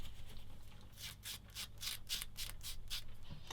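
Rhythmic, scratchy strokes of a sanding sponge rubbing against a plastic model kit part, about a dozen quick passes in a steady back-and-forth pattern, close up.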